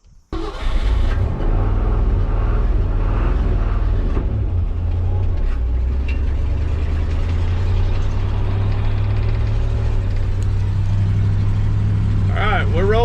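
A 1964 Ford Fairlane 500 hardtop engine cranks after a short burst of noise, then settles into a steady low rumbling run while driving, loud and continuous.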